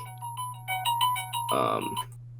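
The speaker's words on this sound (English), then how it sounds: "it's like a cool synth sound. It's kind of like low quality sounding, but it's really cool" A thin, lo-fi synth plays a short run of bright, bell-like notes, each trailing delay echoes, over a steady low hum, ending in a denser buzzy burst that cuts off abruptly.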